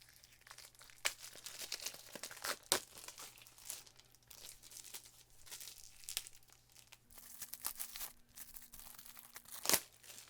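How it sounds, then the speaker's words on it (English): Shrink wrap on a photobook being cut open: soft crinkling and plastic rustling throughout, with a few sharper crackles and snaps, heard close and fairly quiet with no talk. "I'm just going to cut open that shrink wrap a little bit so we can take a look."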